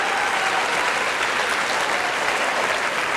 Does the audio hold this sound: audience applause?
yes